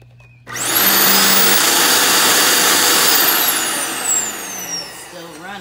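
A Dyson vacuum cleaner keeps running while being demolished, a loud steady motor roar with a high whine that starts abruptly, holds for several seconds, then gives way to a voice at the end.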